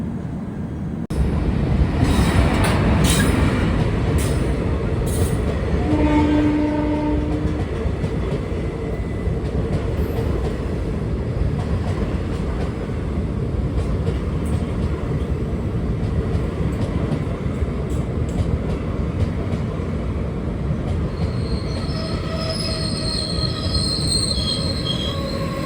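The Hubli–Nizamuddin Express rolls into Kopargaon junction with loud, sustained wheel squeal and a continuous rumble of rail cars close by, with a few brief higher screeches near the end.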